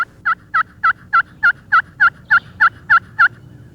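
A wild turkey calls loudly and nearby during spring turkey season in a steady, evenly spaced series of about a dozen sharp yelping notes.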